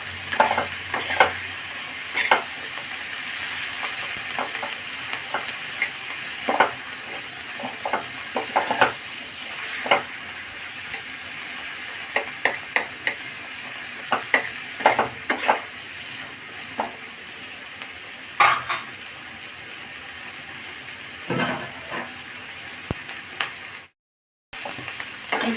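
Food fries in a pan and is stirred, giving a continuous sizzle broken by repeated scraping and clinking strokes of a spoon. The sound runs near and steady, with a brief silent gap near the end.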